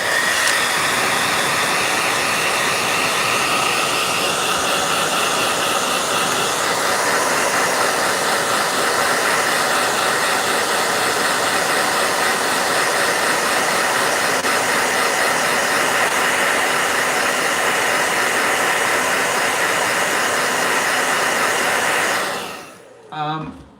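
A hair dryer blows continuously at close range while someone paints, a loud, steady whooshing roar with no break for over twenty seconds before it cuts off abruptly near the end.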